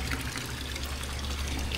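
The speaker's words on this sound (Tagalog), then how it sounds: "pupuno na siya ng tubig" Water pouring and trickling steadily into a homemade aquarium top filter as it fills, a continuous close splashing with a low hum underneath.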